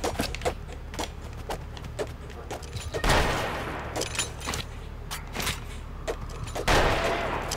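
Rapid gunshots from the pixel-art western shooter Colt Canyon, a dense close volley of sharp cracks with two heavier booming blasts standing out, no talking over it.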